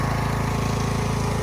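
A Craftsman T 2400 garden lawn tractor's engine runs nearby with a loud, steady, rapidly pulsing drone.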